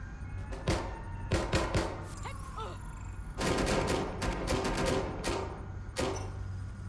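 Gunfire in Watch Dogs Legion comes as sharp bursts of shots, some single and some in quick clusters, spread across the stretch with a dense volley in the middle, close and loud over a low rumbling backdrop.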